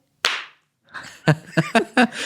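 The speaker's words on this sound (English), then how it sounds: "That was a real high five. Not a clap." A single sharp hand slap from a real high five, one crisp close smack standing alone, followed moments later by a person talking.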